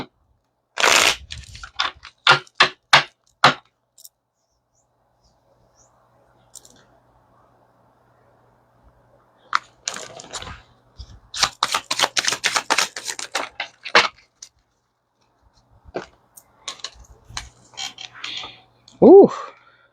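Bursts of rapid papery clicks and riffling as tarot cards are shuffled by hand, in two main flurries with quiet gaps between.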